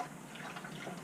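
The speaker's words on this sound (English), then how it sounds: "Time to put a little bit of water into my washer bottle" Water poured into the washer bottle of an XC Ford Falcon 351 wagon, a soft continuous trickling splash, faint and steady throughout.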